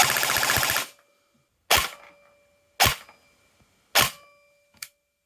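Airsoft gun driven by a next-generation motor, firing one long full-auto burst followed by four sharp separate single shots, each a loud close snap with a short mechanical ring after it.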